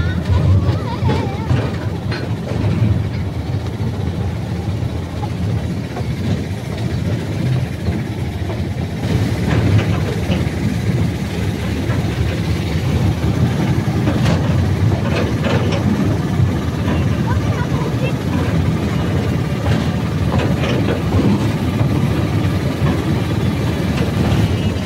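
A train runs along a railway line through forest near Adra in Purulia, its steady low rumble and rail noise continuing throughout with people talking over it.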